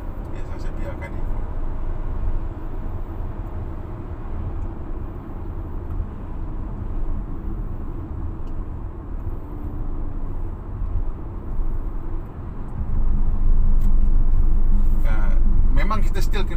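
A Proton X50 Flagship cruises at highway speed around 80 to 90 km/h on adaptive cruise control, a steady cabin road and engine rumble that swells louder near the end.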